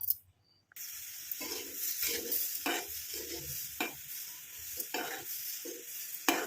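Amla (Indian gooseberry) mixture cooking in an iron kadai, a steady close sizzle and bubbling broken by repeated scraping stirs of a spoon against the pan, after a brief quiet start; no voices.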